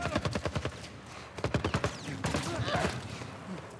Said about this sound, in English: Holy fuck, they got a huge machine gun